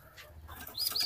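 Racing pigeons inside a loft, with a brief burst of wing flapping and soft bird noises close by, rising in loudness toward the end; no talking.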